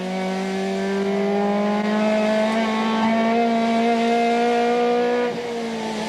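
A new Nissan Sentra race car in 1993 Wesbank Modifieds racing at Midvaal screams past at high revs, a loud sustained engine note rising steadily before easing off near the end.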